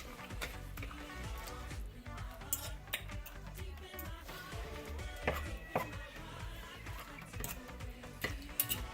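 Two forks pull apart tender pressure-cooked meat, giving soft scraping and light clinking ticks against the pot, quiet and irregular throughout.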